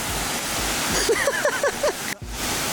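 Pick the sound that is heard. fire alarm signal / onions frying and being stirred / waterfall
waterfall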